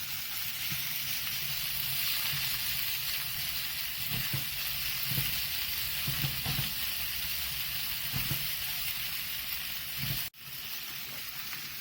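Ginger and garlic sautéing in a hot pan give a constant dense sizzle with soft scraping stir strokes at intervals and a brief dip near the end.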